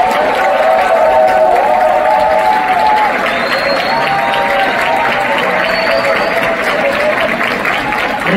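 Audience applause with some cheering fills a talk concert hall during a group photo session with the owner of FC Anyang, steady and dense throughout, with scattered crowd voices mixed in.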